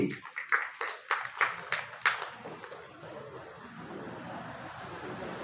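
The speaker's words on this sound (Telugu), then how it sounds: "గట్టి క్లాప్స్ కొట్టండి" An audience claps in loud, rhythmic bursts, about eight sharp claps in quick succession, at a school education event in Mahabubabad district, Telangana, before fading into a low murmuring room hum.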